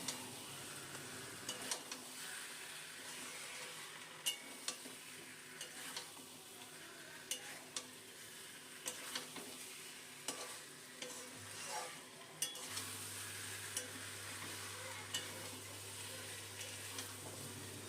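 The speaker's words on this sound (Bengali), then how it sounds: "এখন এই মশলার সাথে আলুটাও কষিয়ে নেবো" Boiled potatoes are stirred and sautéed into a spice paste in a pan for a duck egg curry, with a steady soft sizzle under repeated scraping strokes and occasional light taps.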